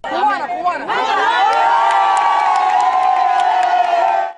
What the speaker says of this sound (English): as soon as Ana Garcia says she's Cuban, the crowd goes wild